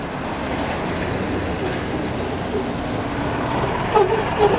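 Minibuses pass along a city road in Zhytomyr, heard as a steady loud rumble of traffic that swells a little near the end.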